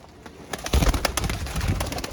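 Several pigeons coo nearby in soft, overlapping throaty bursts, with wing flutters and shuffling around them.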